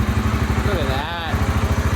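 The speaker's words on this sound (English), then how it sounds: "so Trent, he's gonna hit the starter over there. I bet this thing starts right up" Old engine in a shop running at a steady, fast, lumpy idle with a rhythmic chugging pulse, close and loud throughout, while a voice speaks briefly over it.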